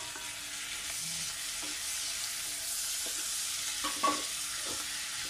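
Roughly sliced tomatoes fry in a pan for Indian butter chicken, giving off a constant crackling sizzle. Occasional soft clicks of stirring sound close by over the steady hiss.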